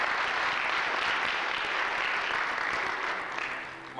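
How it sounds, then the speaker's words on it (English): Steady applause from a concert audience at a Christmas concert in a Methodist church, a dense wash of clapping held evenly for several seconds before tapering slightly at the end. "So he deserves a big round of applause."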